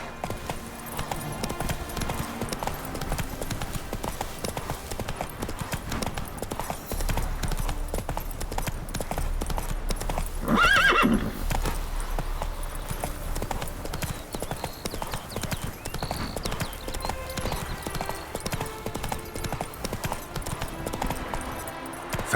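Roach the horse galloping in The Witcher 3: Hearts of Stone, a steady rapid clip-clop of hooves running throughout, fairly close and continuous, with a brief louder burst midway.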